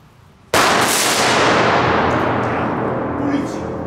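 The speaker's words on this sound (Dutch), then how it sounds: "Dat is altijd zo jammer bij die knetterballen." Crackling ball fireworks go off after a short quiet moment, opening with a sharp, loud burst and then turning into a dense, sustained crackle that fades only slightly toward the end.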